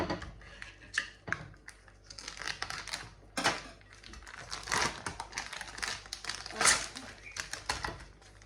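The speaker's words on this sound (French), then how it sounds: "On va ouvrir le saumon." A plastic package of smoked salmon being opened in a kitchen, with repeated close crinkling and crackling of the wrapper in irregular bursts, some sharper tearing snaps, and faint speech mixed in.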